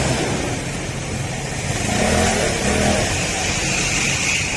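Yamaha Soulty motorcycle engine idling fast at high RPM, a loud, steady, close mechanical drone with a slight rise partway through.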